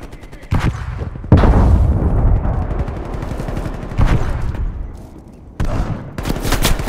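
Napalm strike explosions in Call of Duty: Black Ops Cold War land as a run of loud, rumbling blasts mixed with gunfire-like bursts, surging several times across the clip with roaring noise between impacts.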